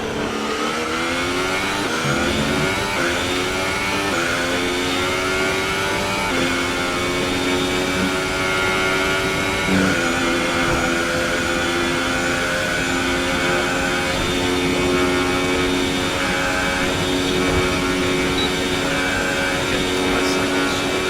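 A Formula 1 car engine in a racing video game, a loud continuous high-pitched whine that climbs steadily through the gears as the car takes to the track at speed.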